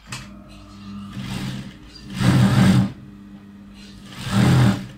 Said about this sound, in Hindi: अब ये स्टिचिंग कर रहे हैं हम